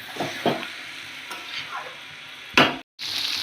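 Marinated meat stirred and fried in a pot, soft sizzling beneath a few scraping strokes of a spoon, one sharp louder scrape near the end, a brief dropout, then steady sizzle again.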